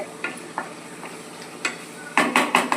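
Masala frying in oil for egg curry, a low sizzle broken by scattered spoon taps and a cluster of louder clinks and scrapes against the pan near the end.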